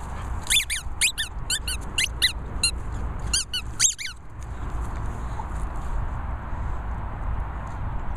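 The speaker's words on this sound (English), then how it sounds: "Does it squeak?" A squeaky toy squeaks in a quick burst of sharp, shrill chirps close by, then stops, leaving quiet room hiss for the rest.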